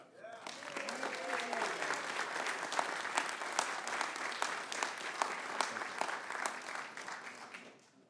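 Sustained audience applause at a summit on Social Security, Medicare and Medicaid, a dense wash of many hands clapping with sharper individual claps standing out, steady for about eight seconds before tapering, with faint voices briefly underneath.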